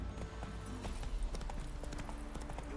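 Roach, the horse in The Witcher 3, gallops with a quick, rhythmic clip-clop of hooves. The steps sound over a low rumbling game soundscape at moderate volume.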